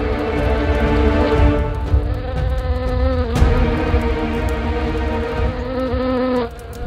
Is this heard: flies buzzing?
yes